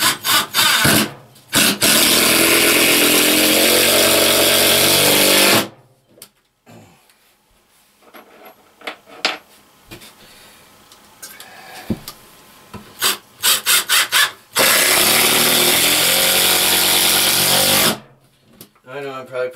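A power driver sinks screws into wood during a tiny house shower installation, with two long, loud, grinding runs framing quieter clicks and handling noise, close up.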